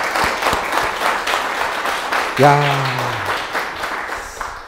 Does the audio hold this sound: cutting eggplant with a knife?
no